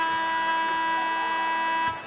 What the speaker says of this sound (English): Kiki Smith at the buzzer off to the left.